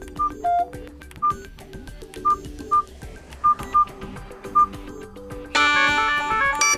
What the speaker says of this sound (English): or we can also change the ringtone like that.